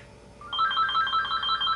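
An office work phone rings, an electronic tone starting about halfway through and repeating in a steady warbling pattern at moderate loudness, with no voices.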